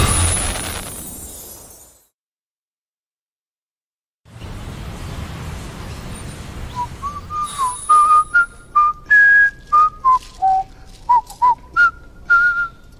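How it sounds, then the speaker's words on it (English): A sharp crash at the start, then silence, then a person whistles a short tune in clear, bright notes, up close and alone, at a TV singing-competition audition. "I'm whistling now"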